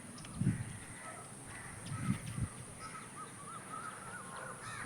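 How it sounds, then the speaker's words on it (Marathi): Bird calls ring out outdoors in the evening in rural Konkan, a few harsh caws near the start and middle with softer chirps of small birds scattered over a steady background hiss. "किती मस्त पक्ष्यांचो आवाज येता"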